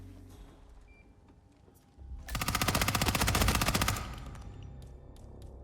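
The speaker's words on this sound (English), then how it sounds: "Where's the SMG?" Sustained automatic SMG fire in the video game Hitman 3, a dense rapid burst lasting about two seconds, loud and close, rising out of quieter game ambience and then cutting off.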